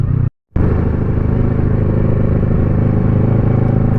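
A Kawasaki Versys 650 motorcycle being ridden through a neighborhood: a loud, steady engine drone with road and wind noise, broken by a brief dropout near the start.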